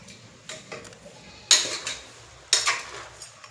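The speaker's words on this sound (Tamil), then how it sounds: "இதை வந்து நல்லா வதக்கணும்" Metal utensil scraping and clanking against a pan while country chicken sautés, sharp clatters recurring roughly every second with two loud strikes, no voices.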